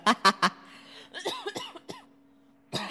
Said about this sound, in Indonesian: Sampai gue batuk itulah